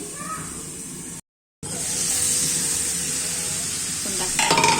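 Hilsa fish curry sizzling and being stirred in a hot pan, with a steady frying hiss broken by a brief gap, then continuing with light scraping and pot sounds near the end.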